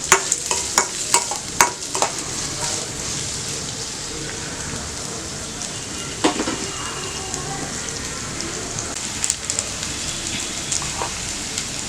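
Onions sautéing with salt in a pan for a home-cooked poriyal, a steady soft sizzle with scattered clicks of stirring, sharper knocks early on, close and alone throughout.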